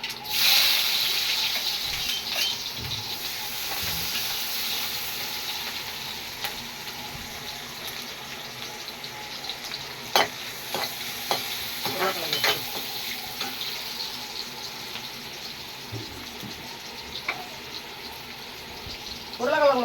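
Sliced onions with fennel seeds sizzle steadily in hot oil in a home kitchen pan, with a spoon scraping and stirring now and then and brief clinks, close and continuous.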